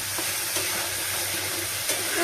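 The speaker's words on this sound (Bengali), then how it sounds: "এবার মশলাটা ভালো করে কষবে তারপরে রাজমাটা ঢেলে দেবো" Spices for rajma sizzle in a hot pan, a steady close frying hiss with light scraping stirs now and then, no voices.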